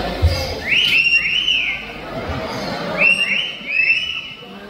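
Two short bursts of bright, rising whistled notes from a parrot mimicking a whistle at a bird show in Cebu, repeated after a pause over a background of murmuring voices.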